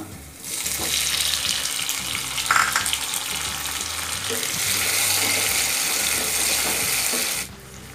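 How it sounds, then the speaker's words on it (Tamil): Chopped tomatoes fry in a pan for moong dal sambar, giving a loud, close, continuous sizzle with a few stirring scrapes throughout. No one talks. "தக்காளி பழம் நல்லா வதங்கணும்"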